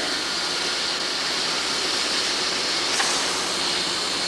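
Water boiling in a pot over a Brown's gas flame, a steady broad hissing, roaring wash of noise, close and continuous without talk.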